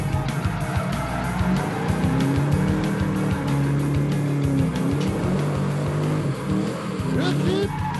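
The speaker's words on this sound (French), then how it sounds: "C'est parti pour la mise en dérapage." Drift car sliding sideways with long tire squeals and a revving engine, loud and continuous, under an excited voice commentating.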